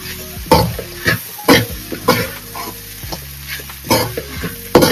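Schezwan chicken noodles are tossed in a hot pan, with a spatula scraping and clanking in repeated bursts over a light continuous sizzle and a steady background hum.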